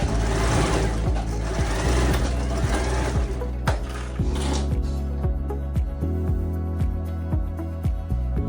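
A sewing machine runs steadily up close while stitching a regular seam on a dress made from a tank-top pattern, its needle action a rapid mechanical chatter. Short pauses and changes in speed break up the run.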